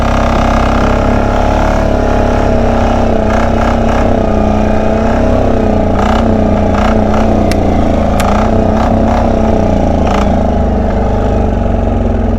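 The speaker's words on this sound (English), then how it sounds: "We'll take a little trail ride here, and then we'll give her a top speed run up the road." A 1999 Polaris 455 diesel utility vehicle climbs a hill on a trail, its engine loud and close with a steady, rough mid-pitched drone that wavers slightly in pitch as it labors uphill.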